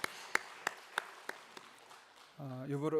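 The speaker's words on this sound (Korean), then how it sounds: "우리 다시 한번 격려의 박수 부탁합니다" A church congregation gives a short round of applause, heard as a handful of distinct claps fading out before a voice starts speaking.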